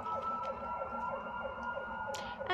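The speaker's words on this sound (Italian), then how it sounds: "Ambulanza." An ambulance siren wails in a steady repeating two-tone pattern, fairly close and clear, with a brief sharp click near the end and no talking.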